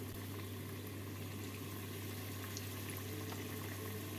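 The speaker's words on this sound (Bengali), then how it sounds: "তেলটা হালকা করে গরম হয়ে গেছে, এবার এর মধ্যে ব্রেডগুলোকে দিয়ে দিচ্ছি।" Bread slices fry in lightly heated oil over a low gas flame, giving a steady, even bubbling hiss that stays constant throughout with no voices.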